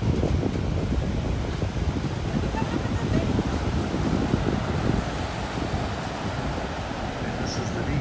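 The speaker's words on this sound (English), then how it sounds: "And the waves pull back very quickly, so it's like a beach break and then it sucks you back in." Surf on a beach in Namibia, where the waves pull back quickly, roars as a continuous broadband wash mixed with strong wind buffeting the microphone, loud and unbroken throughout.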